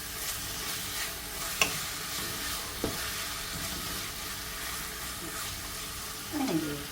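A potato and capsicum gravy is stirred in a pan, giving a soft continuous scraping and gentle sizzle with a couple of sharp clinks of the spoon against the pan, close and fairly quiet.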